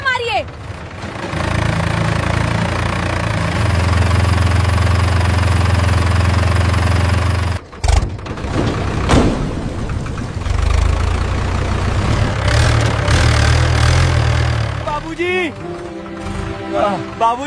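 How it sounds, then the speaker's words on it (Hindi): A tractor engine runs with a steady low rumble that fades briefly near the middle, then keeps churning while people talk excitedly over it. "पानी से ट्रैक्टर चालू हो गया।"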